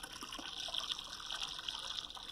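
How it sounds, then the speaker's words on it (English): Water pouring into a bucket holding fermented mustard cake, a steady hissing rush of filling liquid, close and continuous throughout with no talk. "I then make the bucket full with water."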